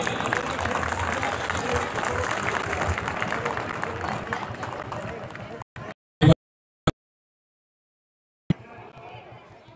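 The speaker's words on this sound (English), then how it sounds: "A big round of applause for this team." An outdoor crowd applauds a team display at a Republic Day 2021 event at NTPC Bongaigaon, a dense sustained clapping that cuts off abruptly, followed by a few isolated loud bursts and a brief return of clapping.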